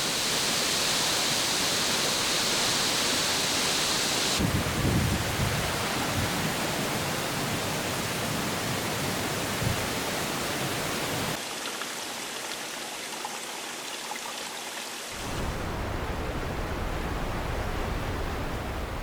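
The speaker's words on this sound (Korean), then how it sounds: "엉또 폭포는 비가 내리자 천둥 같은 굉음과 함께 물줄기를 쏟아냅니다" Eongtto Waterfall in Jeju after rain, a steady, dense roar of falling water that fills the whole clip, dipping briefly before swelling back to full force.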